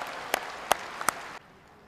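A tennis crowd at an ITF junior final claps in a short burst, with a few sharp distinct claps standing out before it cuts off abruptly.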